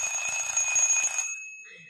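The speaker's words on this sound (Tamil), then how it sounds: "அழகாக இது மாதிரி மணி அடித்து நம்மளை எழுப்பி விட்டுரும்" A battery-powered twin bell alarm clock rings with a bright, rapid metallic clatter, loud and close, for just over a second before cutting off and ringing out.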